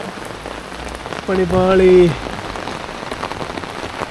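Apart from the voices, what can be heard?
heavy rain falling in Hallstatt, Austria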